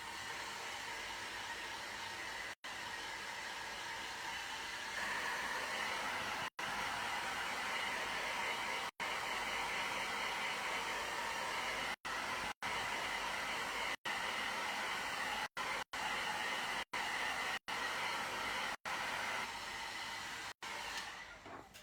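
A heat tool blows a steady, even whoosh of hot air to dry ink on a piece of artwork. The moderate hum runs throughout, with a few momentary breaks and no speech.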